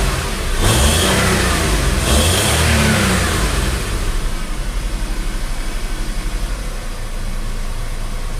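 A 2012 Nissan Latio that had been idling rough with a P0400 fault accelerates on a test drive, its engine revving up in a loud surge and then settling into a steady drone amid road and wind noise.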